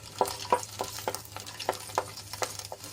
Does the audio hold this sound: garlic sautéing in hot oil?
yes